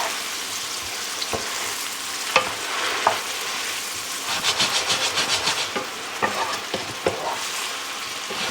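Mushrooms simmering in Marsala wine as the alcohol cooks off, a steady close sizzle and bubbling with a few sharp utensil clacks and stirring scrapes over gentle heat.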